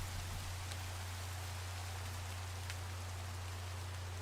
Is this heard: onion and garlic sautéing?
no